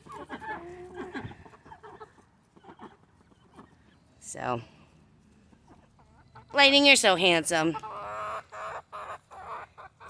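A young backyard rooster clucks and makes short sputtering calls near the mic, with a louder burst of cackling midway, while a person talks softly between the sounds.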